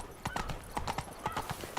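Roach the horse galloping in The Witcher video game, producing rapid, even hoof clops in a steady running rhythm, fairly quiet and without speech.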